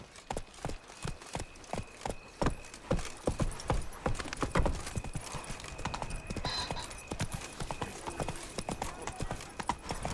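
A horse gallops in The Witcher 3: Blood and Wine, rapid rhythmic hoofbeats thudding close and steady with light jingling tack, continuing throughout the clip.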